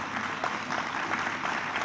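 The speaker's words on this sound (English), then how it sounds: "Please don't be afraid to clap." Steady audience applause fills a graduation ceremony hall at a Seventh-day Adventist high school, a dense continuous patter of many hands clapping at moderate distance with no talk over it.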